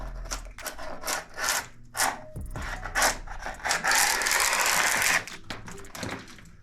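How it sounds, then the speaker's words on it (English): A sharp chisel scrapes and pares wood during an old house repair, producing bursts of dry rasping strokes that turn into a longer continuous scrape near the end, close and fairly loud. "here's what a sharp chisel does."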